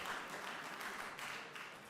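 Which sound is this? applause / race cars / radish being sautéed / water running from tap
applause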